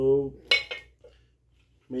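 Gifted salad bowl dish being handled, two quick ceramic clinks close by, set between brief bits of talking.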